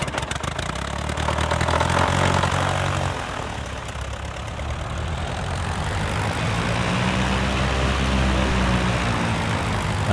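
A Bulldog light aircraft engine starts up in Microsoft Flight Simulator: starter whine and coughing catch build into a loud, steady propeller idle that settles into a continuous low drone.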